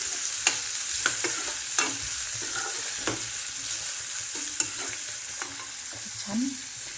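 Vermicelli upma cooking in a pan of oil, with steady low sizzling and frying broken by sharp scrapes and clinks of a stirring spoon every second or so, close and alone without talk.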